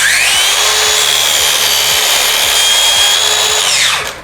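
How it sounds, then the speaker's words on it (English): A mitre saw cuts a mitre with a loud, steady motor whine that lasts about four seconds before the blade spins down at the end. "We want to cut the mitre the other way on this one."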